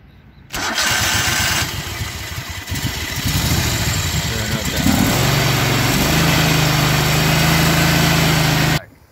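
A Toro Procore 648 greens aerifier engine cranks and catches, rumbling roughly at first and then settling into a steady, loud idle up close before cutting off at the end.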